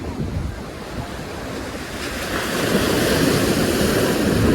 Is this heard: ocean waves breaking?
yes